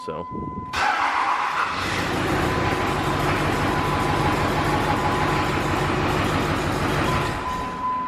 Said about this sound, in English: I just want to start it so you guys can hear what it sounds like.